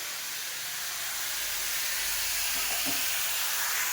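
Potatoes for aloo chorchori fry in a pan with a steady, even sizzling hiss, moderately close and uninterrupted, with one faint knock near the end.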